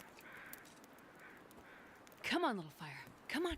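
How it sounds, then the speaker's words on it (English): Crows caw outdoors in the snowy wilderness of the video game The Long Dark, a few harsh descending calls near the end over a steady low ambient hiss. "I'm hearing the crows out there, folks."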